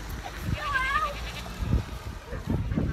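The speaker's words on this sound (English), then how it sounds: "There's a goat hanging out." A loose goat on a family farm gives a single wavering bleat, fairly close, with people talking and outdoor background noise around it.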